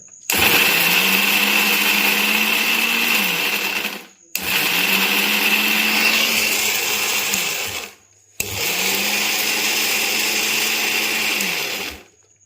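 A mixer grinder grinding herbs for hair oil runs in three loud whirring bursts of about four seconds each, separated by brief pauses, close and without talk.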